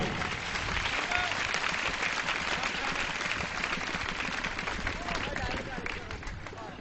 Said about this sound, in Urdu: آپ کی بھرپور تالیاں چاہیے ایک دفعہ ہاتھ اٹھا کے.